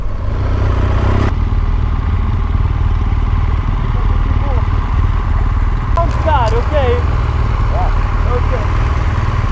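A motorcycle on a touring ride through Sardinia runs steadily, its engine humming loud and constant with wind rush and some clatter, while voices talk briefly over it.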